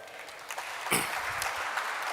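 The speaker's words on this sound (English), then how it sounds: "a big round of applause for them" Applause from the audience at a stock exchange listing ceremony, a moderate patter of clapping with a sharper burst near the middle, fairly distant.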